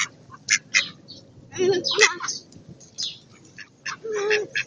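Ducks quack repeatedly at close range as they are fed, their calls overlapping with brief pauses, while people talk nearby.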